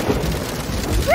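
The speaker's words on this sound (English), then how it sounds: "Mr. Frog, why would you want to make rain sounds on your keyboard" Rain sound effect from a toy keyboard, a short, steady burst of rain-like hiss with a low rumble.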